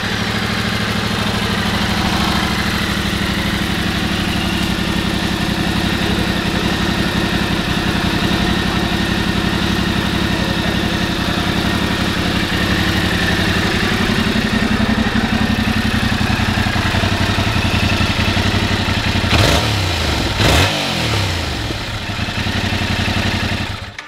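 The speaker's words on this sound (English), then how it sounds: "let's go ahead and fire it up and listen how she sounds." A 2022 Yamaha YZF-R7 sport motorcycle with 1,116 miles fires up and settles into a steady, loud idle that holds close by throughout, with a brief blip near the end.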